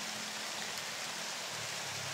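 Rain pours outdoors in a steady, hissing downpour, close and even for about two seconds with no talking.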